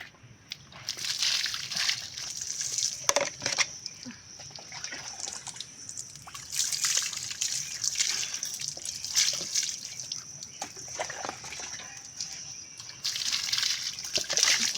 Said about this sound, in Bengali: এবার জল দিয়ে দাও।